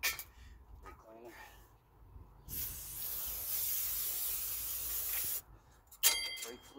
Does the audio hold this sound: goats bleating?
no